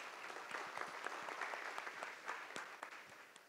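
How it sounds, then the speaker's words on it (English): An audience at a vendor panel event claps in a brief, fairly faint round of applause, with scattered individual claps standing out before the sound tapers off at the end. "Everybody, hand a round of applause,"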